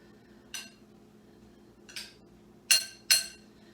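A utensil mixes salsa of tomato, onion, pepper and garlic in a bowl: four sharp clinks against the dish at uneven intervals, the last two louder and close together, over faint background noise.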